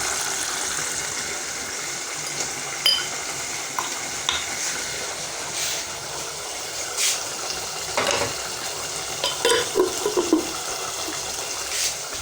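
Beef and peanut stew being stirred in a pot, with soft scraping and bubbling simmer throughout and a cluster of louder spoon knocks and scrapes toward the end; no one speaks.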